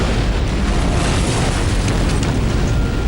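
A massive explosion at a large fireworks factory in rural Devon roars as a dense, continuous rumbling blast, loud and sustained throughout with no pauses.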